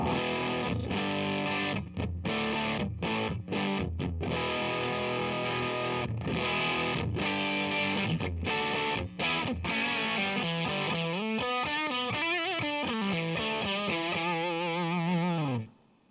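Heavily fuzzed electric guitar through a Harmonic Percolator-style fuzz pedal, thick and saturated, playing chords and choppy stabs before sliding into wobbling, bending notes that sustain and then cut off abruptly.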